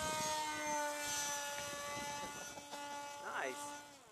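An electric motor on a forward swept wing model plane whines at full throttle, a steady high buzzing tone heard close, with people talking over it.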